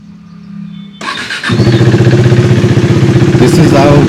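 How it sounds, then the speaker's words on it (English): A KTM RC390 single-cylinder motorcycle cranks and fires up, its starter whirring briefly before the engine catches into a loud, steady, close idle. "let's start the bike"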